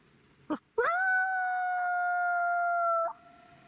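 After a brief click, a single long coyote howl imitation from a call swoops up and then holds steady for about two seconds before cutting off.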